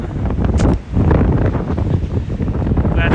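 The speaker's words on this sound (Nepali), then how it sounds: "हावा चलिरहेछ" Strong wind roars and buffets against the microphone, loud and gusty throughout with a brief lull.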